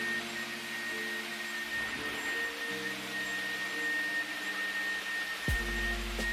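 A Dyson Airwrap hair styler runs steadily throughout, a continuous airy whir with a faint high whine, close by and alone, with a brief shift in tone near the end.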